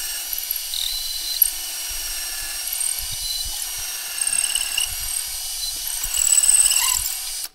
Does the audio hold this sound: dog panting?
no